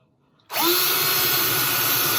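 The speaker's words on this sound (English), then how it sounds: "You're going to drill a hole right inside there." Silence, then a power drill abruptly starts and runs at a steady high whine, drilling a hole in a wooden board, loud and close, continuing without pause.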